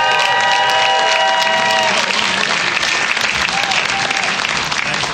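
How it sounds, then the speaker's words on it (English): A comedy club audience applauds and cheers as a comedian is introduced, loud sustained clapping with whoops, while an announcer's voice and a musical sting fade out early on. "Make some noise for the very funny Brian Scalaro"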